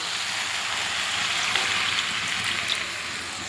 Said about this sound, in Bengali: সবজিটা আমার এই যে কষানো হয়ে গেছে। এবারে জল দিয়ে দেবো